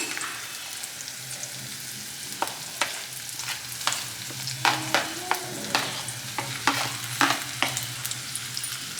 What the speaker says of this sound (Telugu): ఇలా మంటను తక్కువగా పెట్టుకొని ఒక 2-3 నిమిషాల పాటు ఫ్రై చేసుకోవాలి